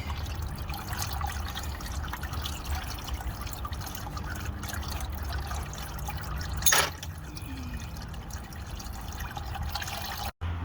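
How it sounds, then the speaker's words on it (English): Engine oil drains from a 2013 Audi Q7 in a steady, continuous trickle, with a brief louder splash partway through and a quick dropout near the end. "after I drain the oil"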